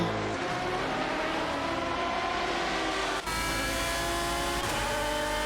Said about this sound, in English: with Meyer in the Ferrari 575 GTC and Gary 710 driving the Lamborghini Murcielago RGT